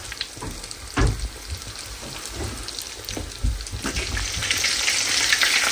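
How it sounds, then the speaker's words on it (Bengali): Iftar snacks deep-frying in hot oil give a steady bubbling sizzle with a few louder pops and crackles near the start and middle, swelling slightly toward the end; no one speaks. "এখন আমি এগুলা ভেজে ফেলি"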